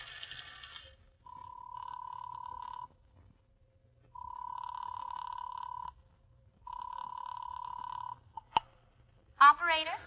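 Old-fashioned telephone bell in a radio drama rings in three long bursts with pauses between, clear and close, followed by a short click and a brief voice at the end.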